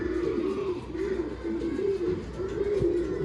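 Soft, repeated cooing of Kulmi male and HMT pigeons in a loft, rolling coos close by in a steady rhythm with faint voices in the background.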